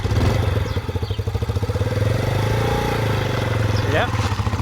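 A motorcycle engine runs close by with a steady, rumbling idle pulse while the clutch is worked, the revs swelling and easing slightly, with voices talking over it.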